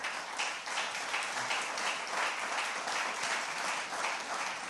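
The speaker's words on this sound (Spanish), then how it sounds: "Denle un aplauso al Señor" A church congregation breaks into sustained, dense applause during a Spanish-language sermon, many hands clapping together in a continuous, fairly loud roar with no pauses.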